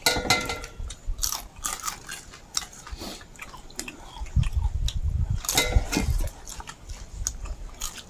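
Fried water beetles are crunched and chewed close to the mic in a series of crisp, irregular bites and wet munching, with no talking.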